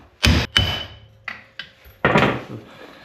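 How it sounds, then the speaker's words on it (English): Several sharp metallic hammer blows on a car's suspension taper fitting ring out at irregular intervals, first two quick strikes, then two lighter taps and a final ringing hit. "you just gotta shock them loose with the hammer a little bit"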